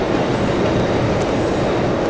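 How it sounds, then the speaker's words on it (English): A metro train in the video game Hybrid Heaven gives a steady, loud, dense rumble and rush throughout, with no voices and no break in the noise. "Ride the blurry metro lines."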